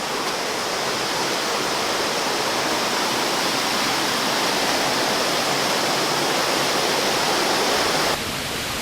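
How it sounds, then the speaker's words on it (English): A waterfall recorded nearby on a GoPro's built-in microphone gives a constant, loud hiss and roar of rushing water, unbroken and even, with the level dropping slightly right at the end. "right behind me, as you can see, there is a waterfall and it's very noisy with the water flowing"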